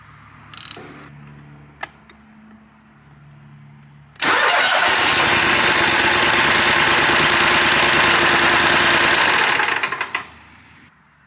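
A Kohler 29 horsepower EFI engine on a riding mower is cranked and fires up after a few clicks, then runs at a loud, steady roar for about six seconds before shutting off.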